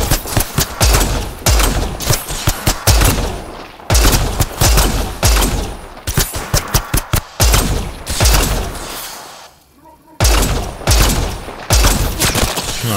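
Rapid bursts of gunfire in the video game Mass Effect Andromeda, loud, close automatic fire in repeated volleys with brief pauses between them.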